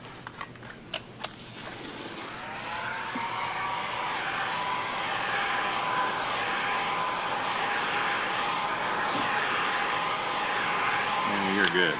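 A heat gun blows a steady, loud airy whoosh close by while warming a vinyl graphic on a Ford Bronco side panel, with a few clicks and taps at the start and end.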